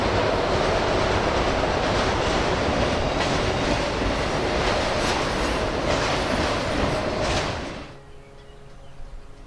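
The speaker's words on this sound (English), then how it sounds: "on a hot afternoon we caught Amtrak 19 rolling past it" An Amtrak passenger train roars past close by on a hot afternoon, with rumbling wheels and clatter for several seconds, then quickly fades, leaving quieter ambient sound.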